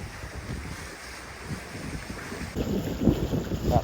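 Sailboat under way off Jost Van Dyke in the British Virgin Islands, with steady wind buffeting the microphone and waves sloshing against the hull, growing louder and rougher in the final seconds.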